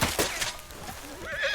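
A horse in the video game Red Dead Redemption 2 lets out a loud, close whinny lasting just over a second, with no talk during it.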